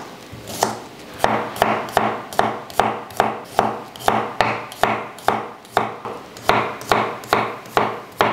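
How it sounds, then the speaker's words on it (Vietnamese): A knife minces shallots and garlic on a cutting board, about two sharp, regular strikes per second, close and crisp, continuing steadily without voices. "Rồi bây giờ mình sẽ băm nhuyễn ra"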